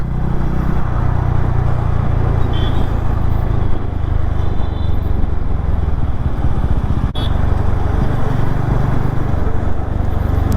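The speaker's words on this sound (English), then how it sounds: "nor did I feel any harshness from the engine, nor the gear shifts" A TVS Ronin motorcycle engine drones steadily while riding in the city or on the highway, a loud, continuous low rumble with wind noise and no speech.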